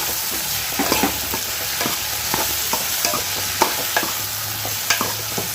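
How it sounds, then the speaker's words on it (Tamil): Okra sautéing with salt in a pan gives a steady sizzle broken by repeated sharp scraping stir strokes every half second or so. It sounds close and moderately loud, with no talking. "வெண்டைக்காயும் சேர்த்து அதையும் ரெண்டு வதக்கி வதக்கிடலாம் உப்பும் சேர்த்து வதக்கிக்கிறது"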